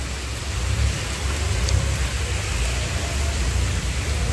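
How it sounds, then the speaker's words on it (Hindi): Sudden rain shower during a home morning in India, a steady broadband hiss of rain on surfaces, fairly loud and unbroken throughout with a low rumble underneath and no voices. "ये देखिए बरसात शुरू हो गई"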